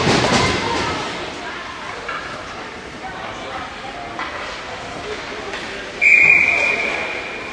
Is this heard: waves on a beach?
no